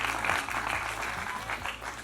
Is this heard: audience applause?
yes